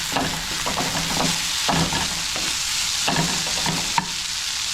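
Fried rice with oyster sauce is stir-fried in a pan, a loud steady sizzle with repeated scraping strokes of a utensil and one sharp clink near the end.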